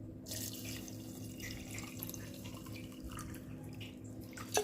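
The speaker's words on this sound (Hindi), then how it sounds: "गाइस अब पानी डाल दो।" Water pours steadily onto chia seeds in a bowl at home, a continuous close splashing and trickling stream with a brief clink at the end.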